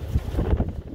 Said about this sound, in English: Sorry, it's windy out here.